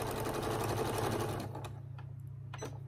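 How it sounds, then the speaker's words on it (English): A sewing machine runs steadily and close for about a second and a half, stitching a quarter-inch seam on quilt patchwork for a Thanksgiving star-block table runner. It then stops, leaving a low hum and a few faint handling clicks. "I'm just going to sew 1/4 inch all the way down"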